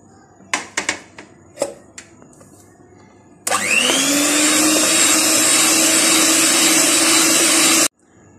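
An electric beater whirs steadily through coconut macaroon mixture with sugar, starting abruptly after a few soft clicks and knocks, running loud and even for about four seconds, then cutting off sharply.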